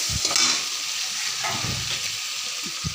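Spices, salt and chopped tomato sauté in a pan for a raw jackfruit curry, sizzling steadily up close while a spoon stirs with occasional scraping knocks, and no one speaks.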